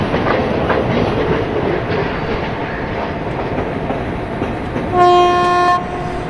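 A WAG 7 locomotive hauling ICF coaches on a Kerala valley route in a train simulator game rolls along with steady rail clatter, then sounds one loud, sustained horn blast near the end.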